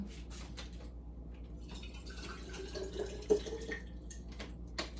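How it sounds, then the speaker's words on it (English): Tap water runs into a glass sauce jar in a kitchen, a faint steady trickle with small splashes and drips that grows slightly busier midway through. "I'm just going to fill this jar with water"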